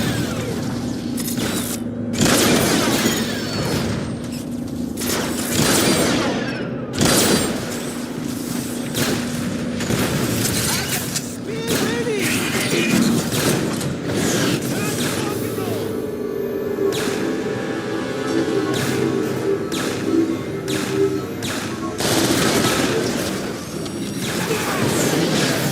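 Rocket blasts and gunfire in the Transformers: War for Cybertron video game, with repeated sharp booms and clanking mechanical bursts over a busy, continuous battle din; game voices talk in between.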